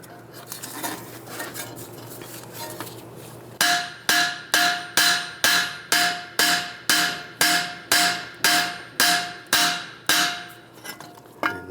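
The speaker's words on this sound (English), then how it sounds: "Now holding the knuckle, you can pull it out a little bit, tap it down." Steel hammer taps on a Volkswagen Beetle steering knuckle during strut removal, a run of about fifteen sharp, ringing metallic strikes at a steady rhythm, close and loud, after a quieter stretch of workshop noise.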